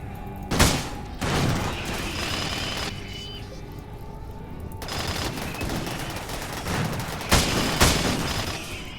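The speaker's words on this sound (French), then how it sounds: "Ouais, ils peuvent tirer encore." Video game gunfire in RimWorld, with bursts of rapid shots and heavy booms over a continuous dense battle rumble, loud throughout.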